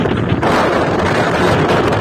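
Strong wind blasts across the microphone at the Ilocos Norte windmills, a loud, continuous roaring buffet with no speech.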